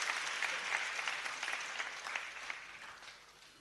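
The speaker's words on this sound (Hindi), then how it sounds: "उनको जोरदार तालियां बजा करके उनकी सेवाओं का अभिनंदन करना चाहिए।" Audience applause at a religious tribute gathering, a dense, steady clapping from a crowd that fades slowly toward the end, heard at moderate distance.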